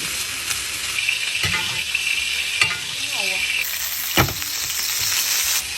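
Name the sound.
steak searing in a pan with rosemary, garlic and ghee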